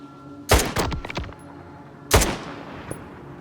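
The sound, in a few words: gunshot in Stalker 2 video game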